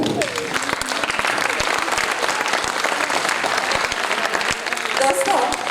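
A seminar audience claps steadily and densely for the whole stretch, a close, sustained wash of many hands with a voice briefly audible near the end.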